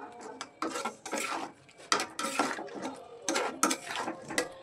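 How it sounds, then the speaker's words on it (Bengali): A lid lifts off a pot of simmering dal gosht meat curry, then a spoon scrapes and clatters as the contents are stirred in irregular bursts of metallic knocks, close and fairly quiet. "10 মিনিট পরে আমি ঢাকনাটা উঠিয়ে একটু ভালোভাবে নাড়াচাড়া করে দিচ্ছি"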